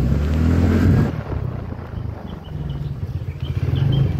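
Motorbike engine revs loudly and close up in the first second, then settles into a steady, rough running note with a faint whine over it, and no one speaks.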